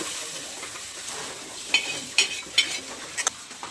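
Coconut, ginger and garlic frying in a pan for a masala, a quiet continuous sizzle with several sharper scraping or stirring strokes near the end, close by, no voices.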